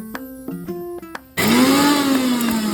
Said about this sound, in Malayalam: വറുത്ത് കഴിഞ്ഞ് അത് നമ്മളൊന്ന് മിക്സിയിലിട്ട് ജസ്റ്റ് ഒന്ന് പൊടിപ്പിച്ചെടുക്കണം.